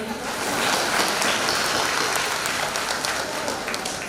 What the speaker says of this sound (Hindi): एक बार फिर आप लोग अपने लिए ताली बजाएंगे।